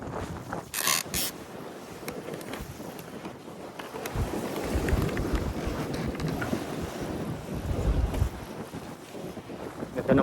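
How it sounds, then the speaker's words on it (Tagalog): Motor boat engine running on the open sea off Taiwan on a fishing trip, a steady low rumble mixed with wind buffeting the microphone and water rushing past the hull, with occasional faint voices in the background. "Ganda ng motor ni Kagiliw"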